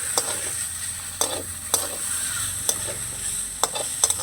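Sabudana momo filling with coriander leaves stirred in a pan, a spoon scraping in sharp, intermittent strokes over a faint steady sizzle, close and alone.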